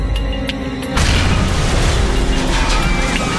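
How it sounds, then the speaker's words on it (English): A bomb detonates aboard a Philippine Airlines Flight 434 jumbo jet on a Manila to Tokyo flight, a sudden heavy boom that cuts through the steady cabin drone and leaves a loud, sustained roar behind it. "The explosion on board cripples the flight control system"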